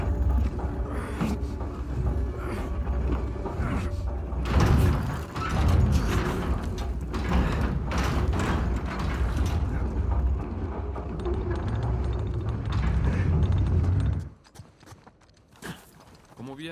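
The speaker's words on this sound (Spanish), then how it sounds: "Abramos esa puerta." A mechanical door opening in Uncharted 4 grinds and clanks continuously for about fourteen seconds with ratcheting, gear-like knocks and heavy thuds, then cuts off to near quiet.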